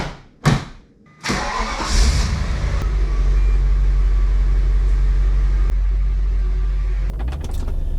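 An Audi C5 RS6 with a chain tensioner problem cranks and fires up close by, with a couple of starter bursts, a catch, and then a loud, steady, deep idle rumble.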